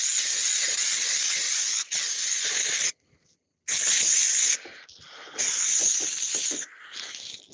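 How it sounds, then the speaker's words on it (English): Contact adhesive glue sprays onto a surface in a camper van workshop, a loud hissing spray in several long bursts separated by short pauses, one of them a complete silence. "with this glue, it's a contact adhesive, so you have to spray both sides"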